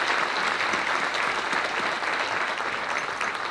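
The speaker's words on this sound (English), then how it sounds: "Let's give Terry another round of applause." Steady applause from an audience at a Canine Companions graduation ceremony, a dense, even wash of many hands clapping throughout with no speech over it.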